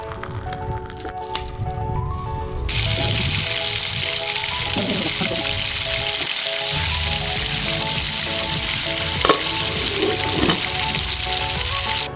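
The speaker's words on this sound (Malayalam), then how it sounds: "ആദ്യം നമുക്ക് മാഗ്നേറ്റ് ചെയ്ത് വെച്ച ചിക്കൻ ഫ്രൈ ചെയ്തെടുക്കാം" Marinated chicken fries in a pan with a steady, dense sizzle that swells sharply a few seconds in and holds loud and close, with occasional sputters and pops and no talking.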